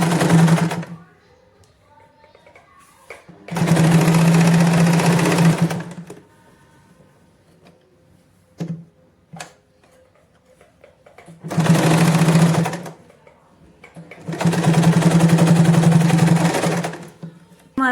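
A sewing machine stitches darts into palazzo fabric in loud, steady bursts of a few seconds each, separated by quiet pauses with small handling clicks.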